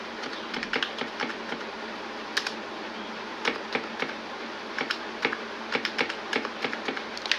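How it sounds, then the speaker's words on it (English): Typing on a computer keyboard at a desk, with irregular bursts of light, close key clicks and taps spread steadily over several seconds, with no voices. "Then I'll type my telephone number."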